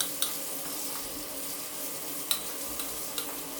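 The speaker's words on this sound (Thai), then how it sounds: "ผัดเต้าหู้กับกระเทียมในน้ำมันร้อนๆแบบนี้จนสุกก่อนนะครับ" White tofu slices and garlic stir-frying in hot oil make a steady, close sizzle, with a few short clicks and scrapes of the spatula against the pan; no talking.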